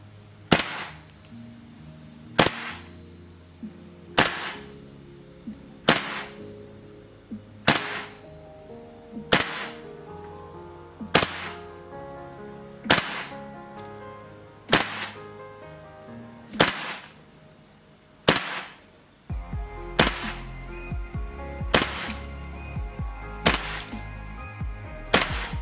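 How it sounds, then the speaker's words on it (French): Repeated shots from a WE ACE VD Dragunov SVD gas blowback airsoft rifle during test firing: about fourteen sharp cracks with metallic bolt clack, spaced roughly every two seconds, close and loud with no talk. "c'est qu'on va aller au test chronique et au test de tir"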